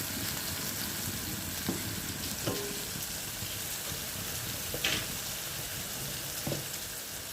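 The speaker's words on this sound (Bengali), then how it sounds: "তেলটা গরম হয়েছে, এর মধ্যে আমি সর্ষে আর শুকনো লঙ্কা ফোড়ন দিলাম।" Mustard seeds and dried chillies sizzle steadily in hot oil for a tomato jhal, a constant frying hiss with a few faint pops and stirring clinks, no voices.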